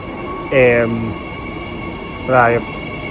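A train rumbles steadily along, a constant low roar broken twice by brief, wavering squeals.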